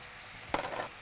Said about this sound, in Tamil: இப்போ இந்த காரசாரமான சாந்தை, அதாவது சில்லி பேஸ்ட்டை இதில் போட போகிறோம்.